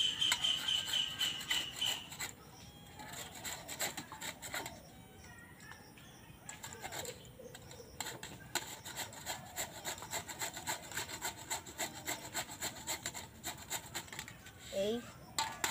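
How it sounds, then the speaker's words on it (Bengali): Papaya being grated on a hand grater for Bengali papaya chutney: steady rhythmic rasping strokes, close and moderately loud, with short pauses between runs and faint voices in the background. "পেঁপেটাকে আমি গ্রেট করে নেব গ্রেটার দিয়ে।"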